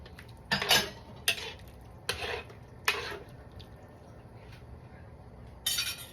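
Metal utensils clink against a cooking pot in a few sharp separate bursts as ingredients are added to beef kare-kare, with quieter scraping between them and no talking.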